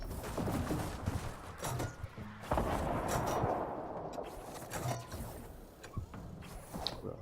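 Gunfire in the Fortnite Battle Royale video game: dense, overlapping volleys of shots and blasts roll continuously at a steady loudness, with heavier bursts near the middle.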